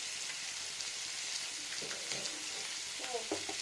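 Masala spice mix hits a hot pan for an egg dish, producing a steady hiss of sizzling and frying, with a few soft stirring scrapes near the end, close and moderately quiet.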